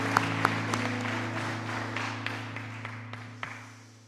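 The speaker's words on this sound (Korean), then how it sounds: "우리 하나님께 감사와 영광의 박수를 돌리도록 하시겠습니다" Scattered clapping from a congregation at a special early-morning church prayer service, a sparse patter of claps over a steady low hum that fades toward the end.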